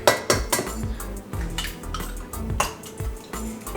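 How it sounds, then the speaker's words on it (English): An egg cracked into a big bowl for a protein brownie batter: a run of sharp clinks and taps of shell and utensil against the bowl, close and fairly loud, with no talking. "In our big bowl, we'll begin by cracking our 1 egg."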